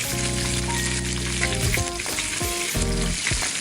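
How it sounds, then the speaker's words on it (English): Blanched french fries drop into hot oil and sizzle loudly and steadily at close range, with a few clanks and bursts of bubbling partway through. "Time to go down to Fry Town. Hot oil, blanched fries,"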